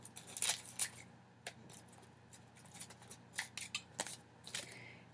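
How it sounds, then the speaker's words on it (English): Scissors snipping through excess wax paper at a crafting table, several sharp crisp cuts in irregular bursts, close and fairly quiet with no talk. "And cut the excess wax paper here."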